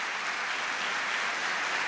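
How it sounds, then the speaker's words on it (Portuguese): A large congregation at a Canção Nova gathering applauds in a faint, even, continuous rush of clapping with no break, heard from a distance. "E vamos aplaudir você, vamos dar um aplauso para você."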